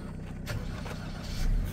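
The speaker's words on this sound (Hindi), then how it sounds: "स्टार्ट हो रही है गाड़ी" Suzuki Jimny engine cranking on its self-starter, a steady low mechanical churn that keeps going without clearly catching, loud and close.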